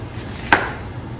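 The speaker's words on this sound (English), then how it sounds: "we're going to start off with just very finely dicing an onion" A knife finely dicing an onion gives a single crisp chop on the cutting board over a low, steady room hum.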